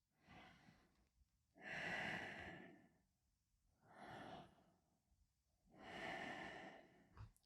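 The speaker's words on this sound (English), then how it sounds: "Take 3 deep breaths." Slow, deep breathing during a hatha yoga stretch: three long audible breath cycles, each a drawn-out inhale and exhale close to the microphone, separated by short quiet gaps, with no talking.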